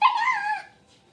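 A puppy character in the Super Smash Bros. Ultimate video game gives one short, high-pitched yelp that fades out quickly, loud and close, with no talking.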